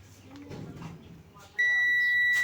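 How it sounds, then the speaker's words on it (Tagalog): A buzzer under test in a circuit on a solar-powered electric fan that will not spin, sounding a sudden loud, steady continuous beep partway through after someone talks quietly and handles parts. "Buzzer."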